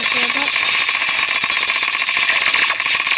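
The SPMG gun in Terraria fires in a continuous, dense buzzing stream of rapid shots, steady and loud throughout, with a brief voice underneath.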